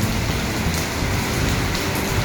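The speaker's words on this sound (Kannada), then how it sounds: "ಇದೇ ಒಂದು ಫೋರ್ಸಲ್ಲಿ ಹಿಂಗೆ ಮಳೆ ಬೀಳ್ತಾ ಇದೆ" Heavy stormy rain pours down in Mysuru as a loud, dense, unbroken hiss of water striking surfaces, with no voices.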